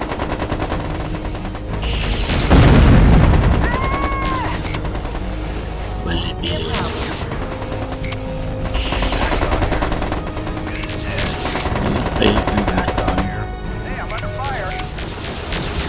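Dense gunfire and booming explosions from a Mech Commander 2 battle, with rapid machine-gun bursts and a heavy blast early on, loud and continuous, mixed with game voice chatter.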